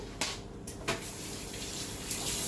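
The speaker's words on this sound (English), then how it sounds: "wash the spoon" Running tap water splashes over a spoon being rinsed in the kitchen, a soft steady stream with a couple of brief clinks and splashes, quiet and without talk.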